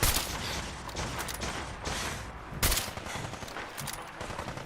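Rapid gunfire from a gun in the video game Fallout 4, a dense, steady stream of loud shots with a sharp burst partway through, heard alone without talk.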